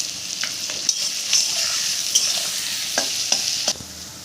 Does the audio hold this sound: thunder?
no